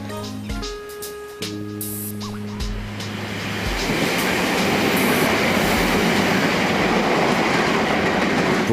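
A Tokyo commuter train runs along its rails, a loud, steady rumbling roar with rhythmic rail noise that builds after a brief stretch of tonal electric hum and bell-like chimes.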